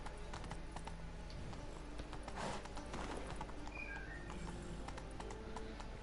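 Hooves of a horse clip-clop steadily in The Witcher video game, a continuous rhythmic trotting carried under game ambience from start to finish.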